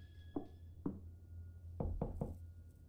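Knocking on a door in the horror video game Visage: two separate knocks, then a quick run of three, dull and fairly faint over a low droning hum.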